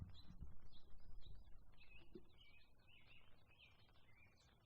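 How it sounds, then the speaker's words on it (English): Small birds chirp and sing in a backyard, faint repeated high twittering calls in quick phrases over a quiet low outdoor rumble. "hopefully you can hear the birds chirping and singing"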